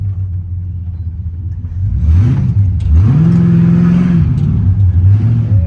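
A 1979 Malibu coupe with a swapped .30-over 5.7 LS1 V8 idles with a deep rumble, then revs up hard and holds high before dropping back to a lumpy idle, loud and close.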